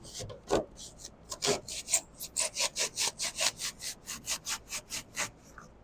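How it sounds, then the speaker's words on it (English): A hand saw cutting through hardened expanding spray foam on a 1968 Plymouth coupe, rapid rhythmic back-and-forth strokes, about twenty close raspy pulls in quick succession with no talk. "So just going to saw through some of this."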